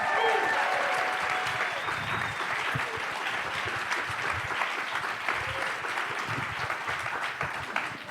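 Sustained audience applause for panelists at the TrustCon 2026 conference, a dense wash of clapping from a large crowd filling the room steadily, with cheers and a few voices mixed in before it begins to taper at the end.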